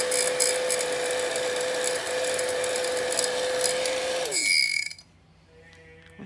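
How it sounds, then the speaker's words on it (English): A heat gun drying a handmade Easter card hums loudly and steadily with a high whine, then winds down and cuts off near the end, leaving quiet. "Take the heat gun to it."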